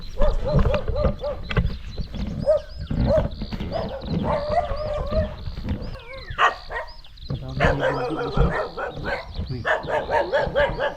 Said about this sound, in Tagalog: Kaya maraming aso dito.